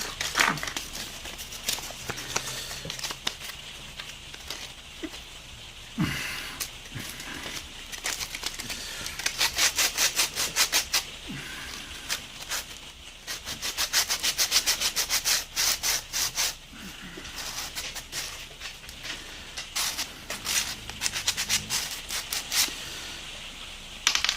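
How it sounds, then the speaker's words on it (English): Sanding a freshly cut plastic model kit part from an Ultimate Marvel X-Men figure set, with steady rasping rubbing strokes in irregular bursts, close and moderately loud throughout, with no talking. "So just need to sand this down a bit."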